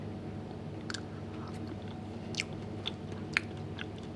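Someone eating Japanese-style marinated salmon, with soft, faint chewing and a few sharper bites at irregular intervals, close up over a low steady background hum.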